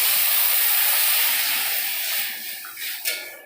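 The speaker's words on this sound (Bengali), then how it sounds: "এই যে জল দিয়ে দিলাম" Water poured into a hot pan of fried lentils gives a loud, steady hissing sizzle that gradually fades and softens over a few seconds.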